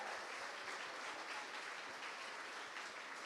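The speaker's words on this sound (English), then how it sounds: "would you guys please stand so we can give you guys all a big round of applause?" Gala audience applauding, a dense, even patter of many hands clapping, steady and fairly distant throughout with no talk over it.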